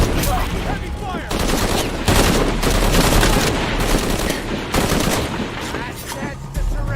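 Sustained automatic gunfire in Shadow of the Tomb Raider, loud and close, with dense overlapping bursts and a few brief pauses through the stretch.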